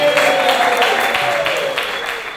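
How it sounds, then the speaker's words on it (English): Sustained audience applause and cheering for a stand-up comedian as he is brought to the stage at a Charleston comedy show, a steady wash of many hands clapping with a faint voice over the top. "Please give a warm round of applause to"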